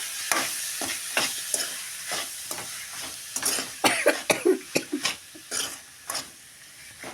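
Bitter gourd curry is stirred in a pan, with a spatula scraping and tapping in uneven repeated strokes over a soft sizzle, close and fairly quiet.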